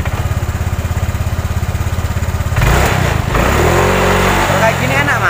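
A Honda Vario 125 scooter engine pulses loudly at a steady rhythm, then is throttled hard and roars up to high RPM, staying close and loud.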